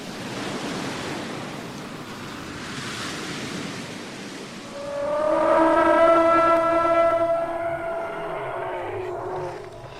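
Surf and crashing waves wash through the speakers of a Walking with Dinosaurs film exhibit at the Great North Museum: Hancock. A loud, sustained, horn-like blaring tone swells over the rushing water partway through.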